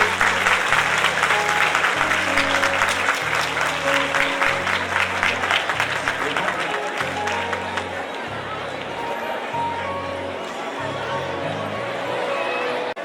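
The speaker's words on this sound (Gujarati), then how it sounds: "ભદ્રાયુ સર માટે બધા ઊભા થઈને તાળીઓ પાડશું." An audience at an educational campus event stands and applauds for a guest, a loud sustained burst of clapping from many people that gradually thins and softens while background music plays.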